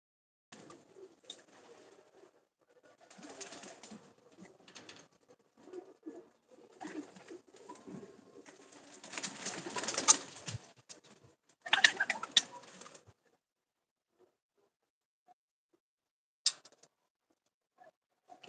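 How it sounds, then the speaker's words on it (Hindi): Large breeder pigeons cooing softly in a loft, with intermittent bursts of wing flapping and rustling, loudest midway, then quieter with a few brief sharp sounds near the end. "ये मेन बड़े ब्रीडर कबूतर हैं"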